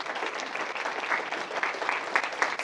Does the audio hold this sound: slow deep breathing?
no